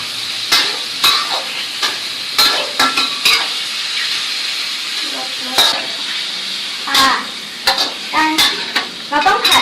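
Squid stir-fried in a pan for pad kaphrao, with loud sharp clanks and scrapes of a utensil against the pan over a steady sizzle, close up, with no one talking.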